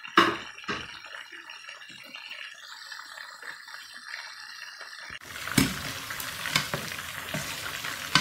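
French fries frying in oil, a thin bubbling hiss at first, then a louder, fuller crackle with occasional stirring knocks after a sudden shift midway; no speech.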